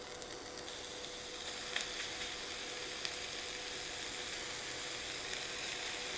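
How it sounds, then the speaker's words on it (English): Steady, quiet sizzling of ham frying in a hot skillet, a soft crackling hiss with a few small pops, no talking. "Let's go ahead and add our ham to the hot skillet."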